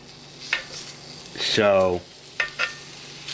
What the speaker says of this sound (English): I'm not going to have you watch the full procedure here of browning this meat.